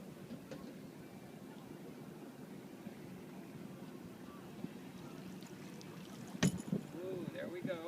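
A PDQ 34 catamaran's engine idles in reverse while the anchor is set, giving a low, steady, faint rumble throughout. A brief clatter comes near the end.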